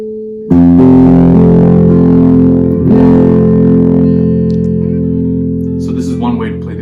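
A major chord strummed on an acoustic guitar in a beginner lesson, rung out together in one sustained strum that decays slowly over several seconds, with a brief scrape of fingers partway through.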